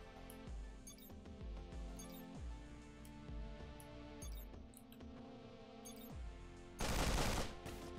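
Gunfire in the roguelike game Sword of the Stars: The Pit: a steady run of sharp, evenly spaced shots over a low game drone, ending in a louder, denser burst of fire near the end.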